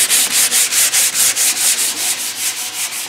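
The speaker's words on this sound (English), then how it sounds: "So first we're going to do is just lightly sand the wood canvas." Light strokes of 220-grit sandpaper across a wood canvas, a close, rhythmic scratchy rubbing repeating about five times a second, loud and steady with no voices.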